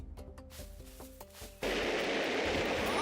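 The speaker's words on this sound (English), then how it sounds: "Oh, it's a firework." In the video game Goat Simulator, a firework goes off: light tonal game sounds give way to a sudden loud burst that turns into a sustained, dense hiss and roar.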